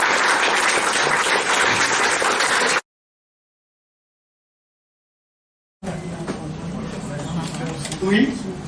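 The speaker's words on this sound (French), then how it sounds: "je crois qu'on peut applaudir Eric." Audience at a ufology dinner-conference applauds Eric, a burst of clapping that cuts abruptly to silence, then returns as a quieter mix of scattered claps, murmurs and talking.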